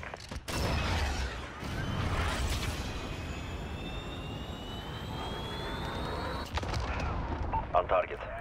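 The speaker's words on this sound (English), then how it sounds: "Cruise missile ready to launch." In a military video game, a cruise missile launches with a sustained loud roaring rumble and a rising whine, followed by heavy booming blasts, with gunfire-like cracks near the end.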